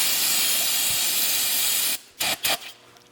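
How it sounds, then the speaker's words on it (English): Brake cleaner sprays in a long, loud, steady hiss for about two seconds, close by, then a few shorter bursts follow before stopping, with no talking. "It's brake cleaner"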